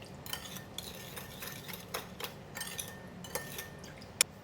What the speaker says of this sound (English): I'm going to stir again